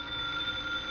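Office telephone in a 1951 radio drama rings in a single short electronic burst, steady and moderately loud with no voices.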